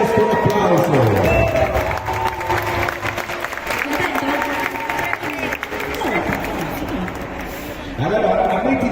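Audience applause and cheering at a children's show, a crowd clapping and calling out steadily throughout, with voices shouting mixed in over the clapping.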